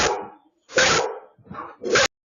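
Dogs barking during rough play fighting, three loud close barks or growling yelps in quick succession with short gaps between them, no voices.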